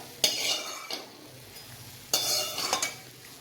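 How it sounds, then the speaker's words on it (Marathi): Cashews roast slowly in ghee on low heat for winter laddoos, with a low sizzle under two bursts of metal spoon scraping and clinking against the pan, close and moderately loud, with no voice. "आता ह्यात आपण काजू भाजून घेणार आहोत पण स्लोवरच भाजायचं बरं का"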